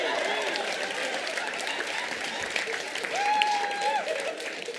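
Steady audience applause and crowd noise at a stand-up comedy show in Québec throughout, with a faint tonal sound rising briefly midway.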